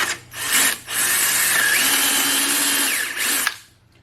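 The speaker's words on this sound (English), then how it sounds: "So what we'll do is we'll just kind of drill these out." A power drill whines loudly and close up, running in a few bursts with short pauses as it bites into material.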